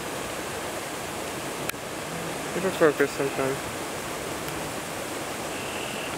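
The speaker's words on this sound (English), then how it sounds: "do you hear that rushing? I hope you can. That's the little riverlet." Steady broadband rushing of a small rivulet swollen by heavy rain flows on continuously, close and moderate in level, while someone speaks briefly over it and a few short knocks interrupt.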